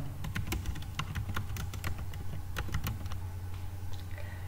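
Close, quick keystrokes clatter on a computer keyboard in an irregular run of sharp taps over a low steady hum.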